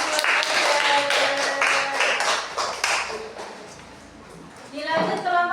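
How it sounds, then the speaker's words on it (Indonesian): Classroom students applauding a group presentation, with steady clapping from many hands lasting several seconds, mixed with children's voices and a short burst of chatter near the end. "Beri tepuk tangan buat kalian."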